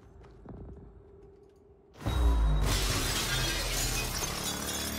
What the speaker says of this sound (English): Maybe I can break through my glass door.